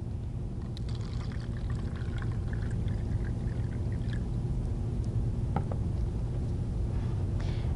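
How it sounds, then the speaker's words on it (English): Tap water poured into a cup, a steady continuous splash and trickle with no talking, a few faint clinks near the end. "You'll fill the first one with just regular tap water."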